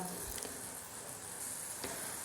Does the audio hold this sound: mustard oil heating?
yes